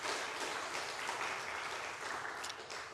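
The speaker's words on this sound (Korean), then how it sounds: "우리 박수 한번 해주세요." A church congregation in Daegu applauds young students, a steady wash of hand clapping at a distance, fairly faint and even throughout, with no talk over it.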